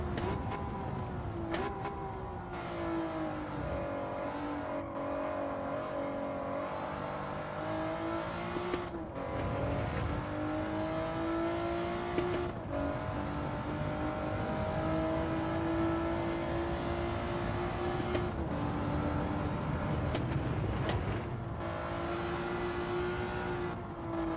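A race car engine in a sim racing league, revving continuously with a droning, wavering pitch that rises and falls through gear changes and corners, loud and close for over twenty seconds without talk.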